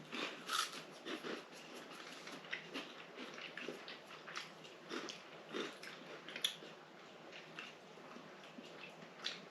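Crunchy vegan cheese doodles without real cheese being chewed and bitten, with repeated crisp crunches in an uneven rhythm, close and fairly quiet, with no talking.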